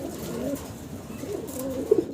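Fancy pigeons of the American Lakha and Black Gold breeds coo softly at a pigeon farm, a low, rolling burble repeating over a couple of seconds with no talk.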